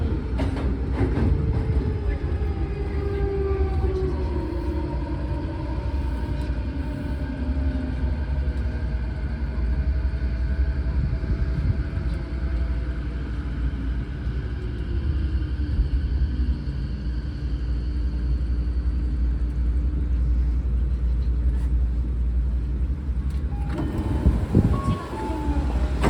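Odakyu 4000 series electric train, car 4510, running through a Tokyo subway section between Nishi-Nippori and Otemachi: continuous loud rumbling with rising and falling motor whine, wheel noise and a brief clatter near the end.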